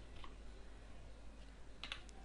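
Typing on a computer keyboard while entering HTML marquee code, faint scattered key clicks with a brief quick burst near the end, alone against low background noise.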